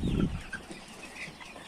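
Two-month-old young hens cluck softly in their pen, a faint, brief murmur of fowl calls against low background noise.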